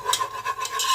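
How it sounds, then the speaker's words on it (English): A roux of gluten-free all-purpose flour cooks in a pan, with soft scraping stirs repeating in quick rhythm over a faint sizzle, close by and with no voices. "Make your roux."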